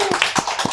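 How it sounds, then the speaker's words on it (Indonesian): A few separate hand claps sound close by in a podcast studio, spaced unevenly rather than forming full applause. "Tepuk tangan dong sekali lagi buat Mas Dedi"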